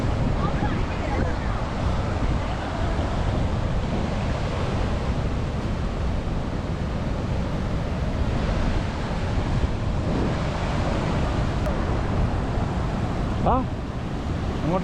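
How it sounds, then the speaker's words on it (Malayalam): Rushing water at Hogenakkal waterfall in Tamil Nadu, a steady dense roar filling the whole clip with constant loudness, close and continuous, with wind buffeting the microphone. "ഹൊഗ്ഗനക്കൽ വെള്ളച്ചാട്ടത്തിൻ്റെ ഏറ്റവും മനോഹരമായി കാണാൻ പറ്റുന്ന ഏറ്റവും നല്ലൊരു സ്ഥലത്തേക്കാണ് നമ്മളിപ്പോൾ വന്നിരിക്കുന്നത്"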